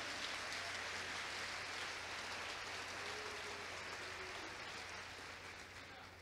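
Church congregation applauding after a sermon passage, a dense, even hiss of many hands that sounds distant and soft, fading slightly toward the end.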